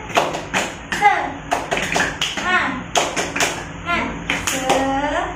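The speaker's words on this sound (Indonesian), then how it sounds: "Jadi tepuk semangat itu seperti ini ya anak-anak" In a third-grade classroom, a teacher claps out the rhythmic 'tepuk semangat' pattern, crisp patterned hand claps in quick groups while her voice chants along.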